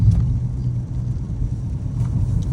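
A catless RT's engine rumbles as the car accelerates on a rainy road, a steady, loud low drone heard from inside the cabin.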